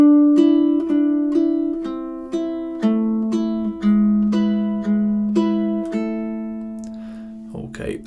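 Classical ukulele playing a short peasant-dance etude passage, Danse Paysanne measures 21 to 24, plucked notes in a steady pulse, clear and close, fading out with a soft handling noise at the end.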